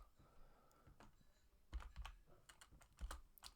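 Quiet typing on a computer keyboard while text is entered into a template, with irregular bursts of key clicks and a few heavier keystrokes and no speech.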